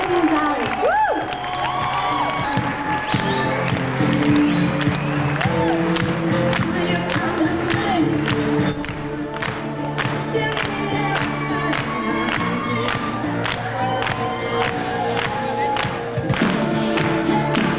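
A large crowd at a 1998 cheerleader show applauds and cheers continuously, with dense clapping, whoops and shouting throughout and a voice over the noise.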